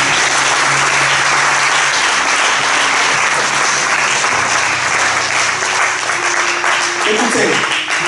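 A church congregation breaks into loud, sustained applause that fills the room evenly throughout, with a voice faintly audible beneath the clapping.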